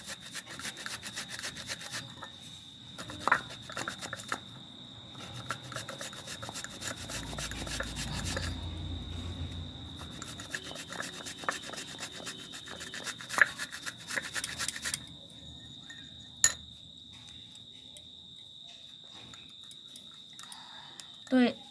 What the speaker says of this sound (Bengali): আপেলটাকে আমি ঘষে নেব।